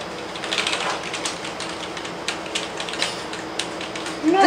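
Keys clatter in a quick, irregular run on a computer keyboard plugged into an HP desktop under repair, loud and close, with a voice briefly heard near the end.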